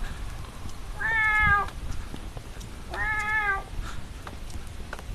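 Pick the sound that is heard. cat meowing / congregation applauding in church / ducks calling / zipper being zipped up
cat meowing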